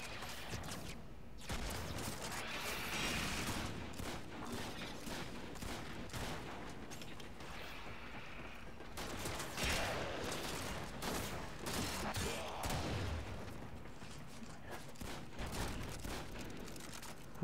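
Gunfire from the video game Warframe during a Syndicate interception mission: scattered bursts and rapid volleys crackle fairly quietly across a long stretch of busy combat noise.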